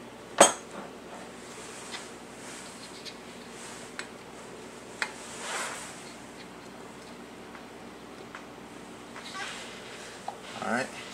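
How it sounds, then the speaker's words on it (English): Metal lids are set onto glass jars of rice for vacuum canning, giving a sharp clink, then several small sparse taps and clicks spread over the stretch, close and fairly quiet under a low room hum. "put our lids on"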